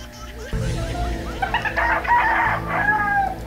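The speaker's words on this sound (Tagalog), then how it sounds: "Uy, daming manok Isa lang pala. Isang tilaok lang na." A rooster crows close by, with clucking from several other chickens of a flock mixed in around it, loud and alone, with no talking.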